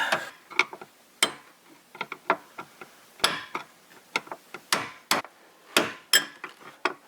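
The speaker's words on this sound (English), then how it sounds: "now we just gotta hammer it back into place" Sharp hammer strikes driving a Ford F-150 fuel sending unit back into place, irregular bursts of taps and heavier blows, close by, with small metallic clicks between hits.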